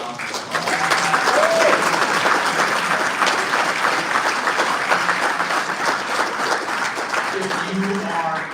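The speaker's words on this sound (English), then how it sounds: "another round of applause" Sustained audience applause for inductees at a coaching association ceremony, many hands clapping steadily at an even level, with scattered voices and cheers mixed in.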